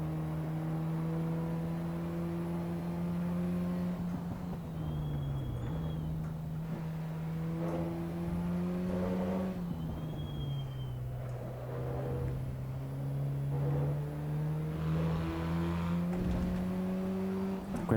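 A race car engine in the Assetto Corsa EVO racing game with an H-pattern gearbox, a steady loud droning whine that rises and drops with gear shifts and revs, continuous and close throughout.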